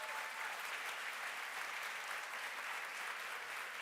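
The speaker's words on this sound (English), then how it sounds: "Give a round of applause" Applause fills a podcast recording setting, a steady, even wash of many hands clapping at a moderate distance with no voices over it.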